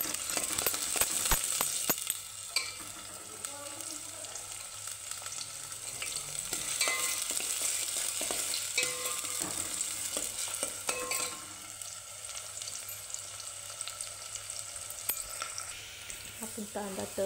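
Onion fries in a pan for a drumstick-pod vegetable dish, giving a constant close sizzle and crackle with occasional clinks and stirring scrapes, steady in level across the whole span.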